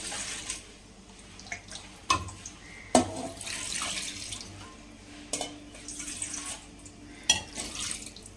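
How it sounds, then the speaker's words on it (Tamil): Water from a bucket runs and splashes steadily into a pressure cooker holding mutton biryani, with a few sharp clanks of metal throughout. "1 வாளி தண்ணி வந்து சேர்த்துக்கிறேன்."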